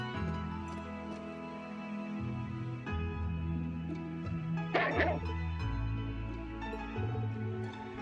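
A dog barks and yips in the role-playing game Trails of Cold Steel II, its short calls scattered over steady game music and ambience, with a brief louder burst near the middle.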